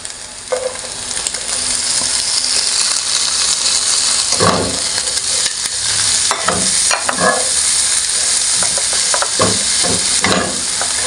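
Vegetables being stir-fried in a wok for chow fan, a steady loud sizzle with repeated scraping and clattering strokes of the spatula, alone without talk.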